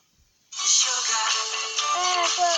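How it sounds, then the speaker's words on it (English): A phone notification tone rings out after a moment of silence, a bright, loud electronic ringing that holds steady to the end. "Ringing."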